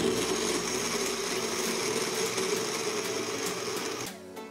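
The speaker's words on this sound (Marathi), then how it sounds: "आता आपण हे बारीक करून घेऊया।" A kitchen mixer grinder whirs steadily and loudly as it grinds milk powder with mava essence into a basundi premix, the motor running continuously before cutting off abruptly near the end.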